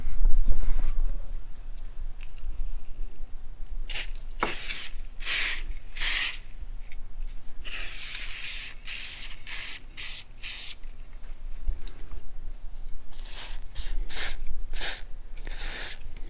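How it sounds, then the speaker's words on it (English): Wet silicone lubricant sprays onto the top track of a Jeep Wrangler JL's power top in a series of short hissing bursts, some quick and some longer, close up with quiet pauses between. "it's just a wet type silicone lubricant"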